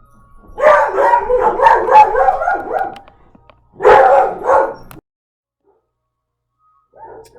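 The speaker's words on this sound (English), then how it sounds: "The mailman came again. He comes every day, and they bark every day." Several dogs bark at the mailman indoors, loud and close, in a long volley of overlapping barks followed by a second short burst after a pause, then a faint bark near the end.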